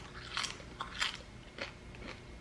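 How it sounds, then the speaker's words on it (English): Crispy food from a Black and Decker Crisp'n Bake air fryer (model TOD5035SS) is bitten into. Four sharp, close crunches come at a steady rhythm, each a dry crackling snap, with no talking. "It has some good crunch to it."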